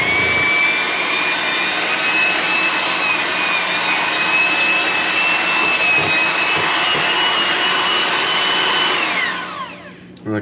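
An electric mixer beats low-fat cheesecake batter in a kitchen, a loud steady whirring drone that holds for several seconds before winding down abruptly near the end.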